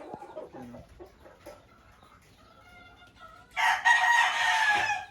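A Maclean gamefowl rooster crows loudly and close by near the end, after a stretch of quieter farmyard clucking and rustling.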